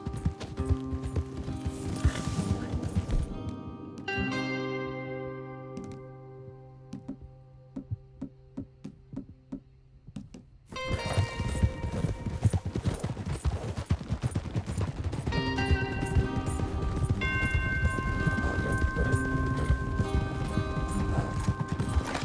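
Horses gallop in Red Dead Redemption 2 with loud, rapid hoofbeats, pausing briefly before a sharp burst, then returning strongly alongside game music and occasional gunfire.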